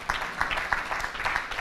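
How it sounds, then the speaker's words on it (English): An audience at a BYU Pathway graduation in Kampala, Uganda gives a short, brisk round of hand clapping, moderately loud and scattered, with faint voices underneath. "A hand clap for a pathway missionary."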